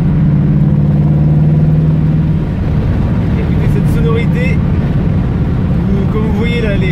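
A 1967 Pontiac Firebird drives with a loud, steady engine drone that drops as it shifts gears partway through, and a voice talks over the running engine.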